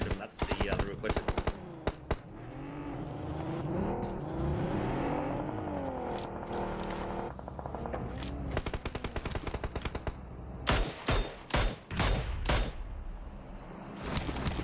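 Suppressing gunfire in a PUBG Mobile scrim match, loud rapid bursts of automatic fire repeating throughout, with a vehicle engine whirring in the background and a commentator talking over it.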